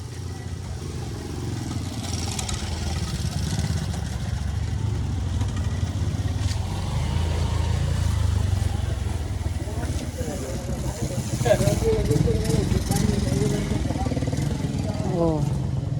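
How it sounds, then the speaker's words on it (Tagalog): Motorcycles arrive and idle with a low, steady engine rumble, revving and sputtering nearby. Voices talk over the engines. "dito tanan padulong ang motor"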